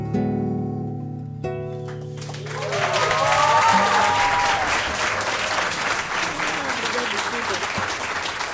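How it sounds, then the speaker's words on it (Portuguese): Audience applause at a live concert rises as the music ends, a dense sustained wash of clapping that fills the room for several seconds. "uma salva de palmas"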